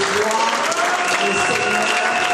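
A church congregation breaks into sustained, dense applause acclaiming the Lord, loud and continuous with voices calling out over the clapping.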